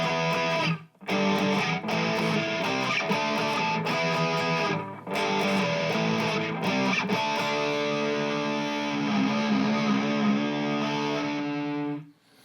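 A distorted electric guitar plays through a Spark Neo headphone amp on its high-gain preset with little reverb or delay, loud and sustained chords with short rhythmic gaps, alone without talk.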